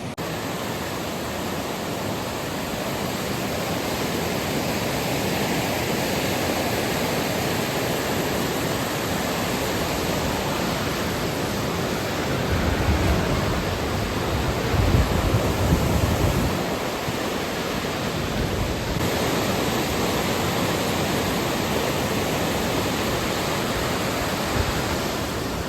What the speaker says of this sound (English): this noise you can hear is water